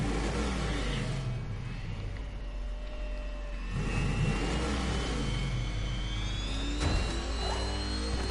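A Batmobile engine in the video game Batman: Arkham Knight drones and revs up and down continuously, with rising whine tones, sounding close and steady throughout.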